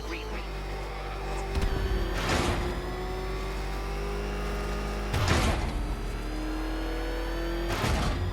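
Batmobile engine in Batman: Arkham Knight, a loud continuous motor drone with three surging rev bursts spaced a few seconds apart.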